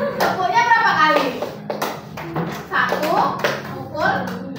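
Children in a classroom clap and tap in a counted rhythm game, sharp claps and taps sounding close and mixed with a teacher's voice giving instructions.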